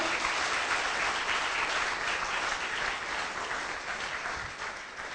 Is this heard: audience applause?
yes